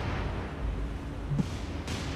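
Naval artillery booms in the War on the Sea video game during a clash between US and Japanese warships, heard as a dull, distant rumble under steady broadband battle noise with a few muffled thumps.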